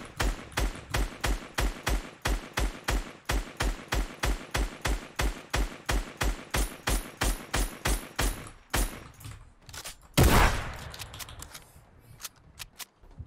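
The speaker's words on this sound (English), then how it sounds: "Here we have to shoot all of the targets" Rapid series of gunshots from target shooting in Fortnite, evenly spaced and close, about thirty sharp cracks in a row, followed by a louder burst and fading trail.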